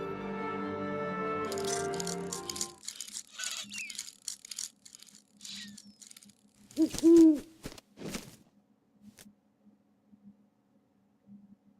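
An owl in the video game Syberia 3 gives a short, low hoot partway through, with faint game ambience and scattered soft effects around it.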